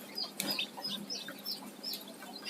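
A chicken near a hatching egg in a small backyard coop, giving quick, high, repeated clucks and chirps, close and fairly clear over a light background hiss.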